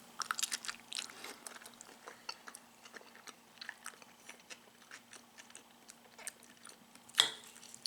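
Someone chews a spoonful of ground beef and kimchi with avocado, giving close, moist crunching and biting sounds in an irregular rhythm, with a steady low hum in the background.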